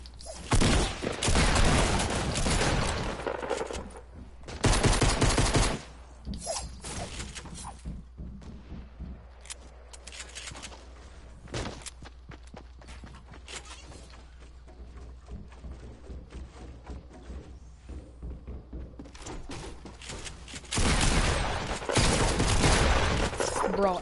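First-person shooter gunfire crackles in dense, loud bursts at the start, middle and end, with scattered sharper shots and a player's voice in the quieter stretches between.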